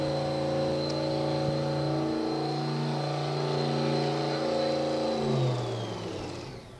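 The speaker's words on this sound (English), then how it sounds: "I thought the revs were very, very high up there for Mickey Larson." A drag racing car engine holds a high, steady rev with a tonal whine, then the pitch drops and the sound fades as it winds down.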